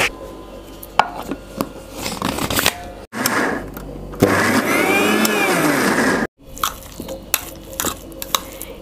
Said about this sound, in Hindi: ये अभी हम लोग इसको एक बार फिर से चलाएंगे मिक्सी में।